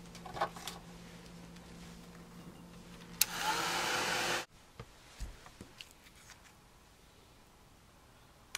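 A dryer blows on a molding paste craft tag in a steady whoosh lasting just over a second, set between quiet handling noises and small clicks at close range.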